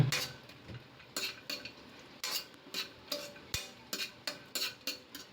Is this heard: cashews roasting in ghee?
yes